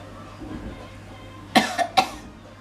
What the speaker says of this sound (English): Sorry, that's made me cough.